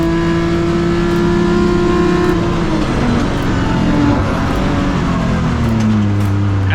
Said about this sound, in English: the fastest car on track is Reinhard Miller